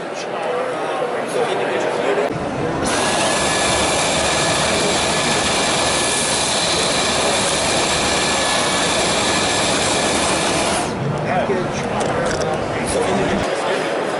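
A Dyson V10 cordless vacuum cleaner runs with a loud, steady high-pitched whine and airflow roar for about eleven seconds, starting and stopping abruptly, with a person talking over it.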